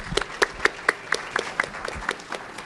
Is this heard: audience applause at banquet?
yes